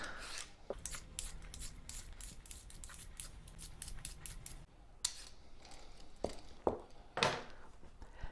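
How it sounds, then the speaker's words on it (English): Carrots being peeled by hand in a home kitchen, a rapid series of scraping rasps that then thins into a few separate strokes and light knocks, close and fairly quiet. "the first thing we're going to do is peel the carrots"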